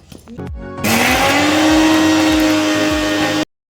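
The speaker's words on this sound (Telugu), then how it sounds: "ఇప్పుడు దీన్ని మనం మిక్సీ పట్టుకుందాం" Mixer grinder blending onion chutney with cumin, curry leaves and salt: a few short pulses, then a loud, steady high-pitched whirring motor that runs about two and a half seconds before cutting off abruptly, close and with no voices.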